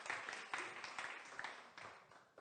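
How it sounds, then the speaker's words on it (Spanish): A church congregation applauds in a dense, steady wash of many hands clapping for a couple of seconds, moderately distant and fairly soft. "Un fuerte aplauso para el Señor"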